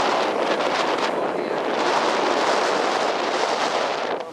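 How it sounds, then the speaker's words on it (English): Strong wind on a New England beach buffets the microphone with a loud, continuous rushing roar that gusts slightly throughout. "Very windy, but mild."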